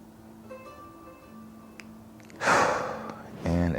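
Deep yoga breathing, a strong audible inhale followed by an exhale, close to the microphone after a quiet pause with faint room hum and a brief voiced sound at the end.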